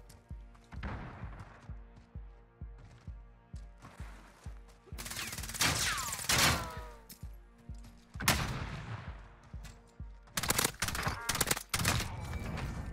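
Gunfire in the video game Warzone: repeated close shots early on, then dense bursts of loud automatic fire and heavy blasts that come and go through the clip, with some faint voices under the action.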